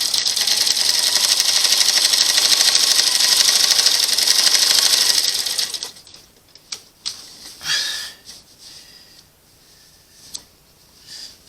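A sewing machine stitches binding onto a Valentines quilt top in a steady, fast-ticking run for about six seconds, then stops, leaving a few soft handling clicks and rustles.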